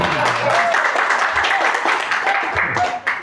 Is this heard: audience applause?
yes